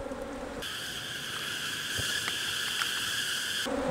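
Honey bees from an agitated, queenless hive drone around the opened box, a steady close buzzing hum with a few brief knocks.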